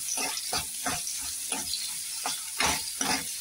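Onion sautés in a pan for tacos, giving a faint, steady sizzle. Soft scraping bursts come at a regular rhythm as the pieces are stirred about every half second.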